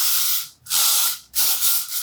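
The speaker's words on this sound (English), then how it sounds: "So once it's cooled, you can spray some hairspray in it." L'Oreal Elnett hairspray misted onto short hair in three close, loud, hissing bursts separated by brief gaps, with no voices.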